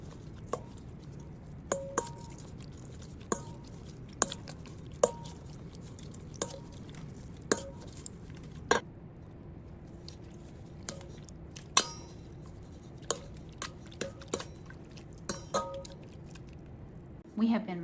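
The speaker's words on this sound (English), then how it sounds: "I'm just gonna get a potato masher and just mash them." A potato masher crushes blackberries and blueberries in a pot for jam, with quiet, irregular clinks and soft squishy presses spaced a second or two apart against a faint background hum.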